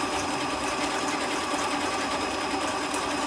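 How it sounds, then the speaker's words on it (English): A Continental M7 sewing machine runs a hand-stitch-style sequence at about 7 mm stitch length, a steady, fast, even whir close by with no voices over it. "So, I'm sewing."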